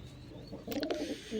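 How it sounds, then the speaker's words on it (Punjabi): Brief, soft pigeon cooing, faint and close, a few low throaty notes over quiet background. "ਤੇ ਹੁਣ ਇਹ ਕਬੂਤਰਾਂ ਨੂੰ ਚੱਕ ਕੇ ਕਰ ਦਿੰਦੇ ਡੋਲੀ ਚ ਅੰਦਰ ਬੰਦ"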